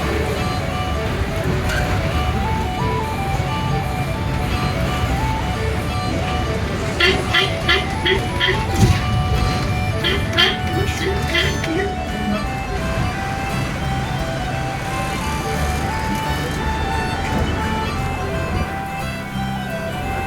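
KSRTC bus travelling along a mountain road on the way to Ranipuram, with a steady engine rumble and road noise throughout and brief horn-like tones in the middle, heard from inside the vehicle.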